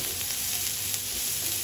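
Carrots, green chillies and other vegetables frying in a pan for poha, a continuous close sizzle with light stirring scrapes, even and steady throughout.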